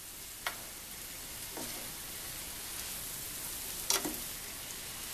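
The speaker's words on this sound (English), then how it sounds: "That's why the wok makes good for stir frying" Food being stir fried and tossed in a wok on a home stove, a steady soft sizzle with a few brief clinks and scrapes as the ingredients are stirred.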